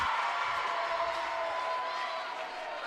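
A packed crowd at a City Alliance semi-final basketball game cheers and whoops loudly during a timeout after a late go-ahead basket, a sustained roar with a few shrill whistles riding on top.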